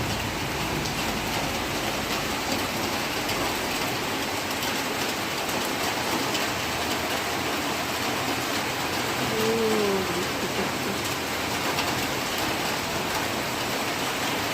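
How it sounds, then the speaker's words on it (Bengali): Steady monsoon rain pours outdoors on a cloudy morning among leafy plants, a dense, even hiss of falling water with no pauses, close and continuous. "এই দেখো কীরকম বৃষ্টি পড়ছে,"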